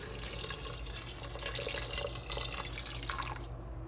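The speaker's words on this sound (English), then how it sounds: "I'm gonna go ahead and add my water here." Water runs steadily from a tap into a pot of parched rice being cooked with garlic and cumin, a continuous bright splashing stream at moderate level with no talk.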